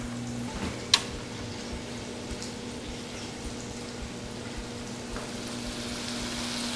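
Green bean fries are deep-frying in oil in a deep fry pan, giving a steady, soft sizzle and bubbling that holds throughout. A single brief clink sounds near the start.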